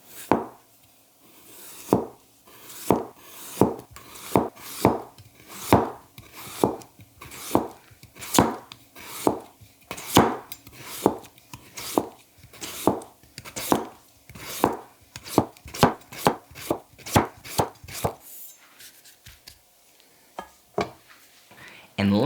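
A Seki Kyuba Shin kiritsuke knife slicing a yellow potato thin on a cutting board, about thirty crisp, evenly spaced cuts in a steady rhythm, close and clear, then a brief pause and a final few strokes.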